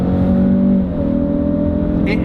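A 2018 Alfa Romeo Stelvio SUV engine revs hard and steady up close on kick-down, a sustained throaty drone that holds its pitch with a brief bump near the end.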